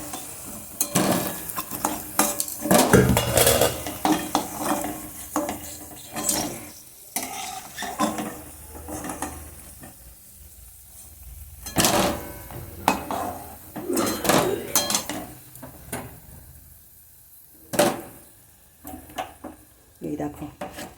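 Fried pakoras are lifted from a wok into a bowl, with scattered metallic clinks and scrapes of utensils, light sizzling, and someone talking intermittently over the clatter.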